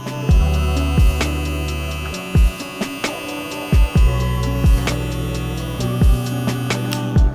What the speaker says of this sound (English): Very quiet clipper